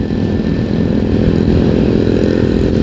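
Several motorcycles cruising together on a busy Pantura highway in Cirebon during holiday travel, one bike being pushed along by the feet of two riders alongside; a steady, continuous engine drone fills the whole stretch with no talk.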